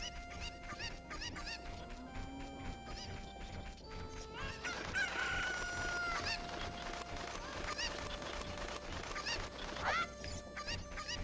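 Cucco chickens in The Legend of Zelda: Ocarina of Time crow and cluck repeatedly, loud and close, over layered game music and effects with no talking.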